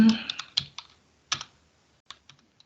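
Computer keyboard typing, a handful of crisp, close key clicks in small irregular bursts separated by brief pauses, with no talking.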